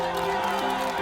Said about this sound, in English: Hundreds of fans cheering Kilian before the finish line.